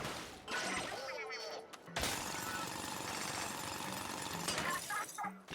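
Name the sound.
drill bot breaking a crystal in a video game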